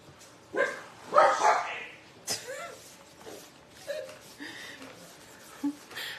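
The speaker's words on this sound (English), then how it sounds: "My dogs, they just barked at Robert when he came in." Pet dogs barking indoors at someone arriving, a few sharp barks and yips near the start, then quieter whimpering sounds, with light household noise between.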